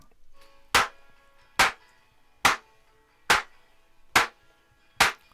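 Clap samples processed with a transient shaper, six sharp evenly spaced claps with short decaying tails and quiet gaps between them, heard alone.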